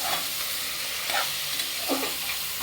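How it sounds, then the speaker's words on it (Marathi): Chopped vegetables sautéed with turmeric and garam masala for masala bhat in a pressure cooker; a steady close sizzle with soft stirring scrapes breaking through every second or so. "छान परतून घेऊया."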